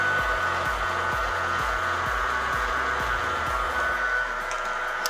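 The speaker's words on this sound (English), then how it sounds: "Turning on my mixer." Stand mixer with a whisk attachment running steadily while making carrot cake batter, a continuous loud motor whir with a rhythmic low thumping pulse, alone without talk.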